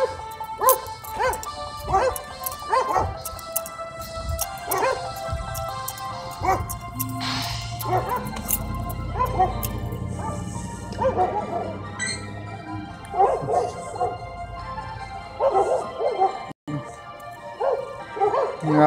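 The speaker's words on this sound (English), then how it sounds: "Sorry about the dogs." Household dogs bark, yip and whimper over and over, close by and fairly loud, sometimes overlapping, while a person talks over the noise now and then.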